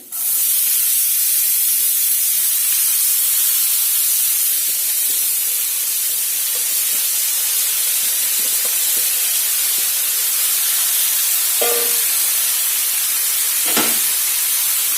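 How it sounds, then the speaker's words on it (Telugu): Chopped spinach dropped into a hot pan gives a loud, steady steaming sizzle that starts abruptly and holds throughout, with a few faint clinks near the end. "తర్వాత కట్ చేసి పెట్టుకున్న పాలకూర వేసుకోండి"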